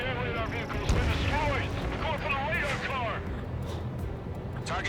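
Anti-aircraft guns firing in Ace Combat 7 during an aerial battle: heavy booming flak blasts and rumble under overlapping radio chatter and voices, continuous and dense.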